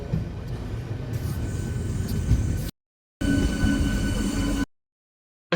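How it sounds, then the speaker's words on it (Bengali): Passenger train running toward Digha near Tamluk and the Haldi river, a steady rolling rumble and rattle of wheels and carriages heard from on board, broken by two abrupt silent gaps. "দীঘাতে যাত্রা করছি ট্রেনের মাধ্যমে"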